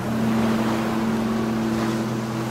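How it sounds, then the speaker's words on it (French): Sea waves roll in off the coast of Cyprus with a steady, broad wash of surf; a low, continuous engine hum, probably a boat, runs underneath, and nobody speaks. "comme nous sommes face à la mer en ce moment"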